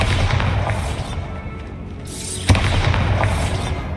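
Bombarda explosion spell in Hogwarts Legacy, a dense rumbling blast wash with a sharp close burst partway through, loud and sustained over several seconds with no talk.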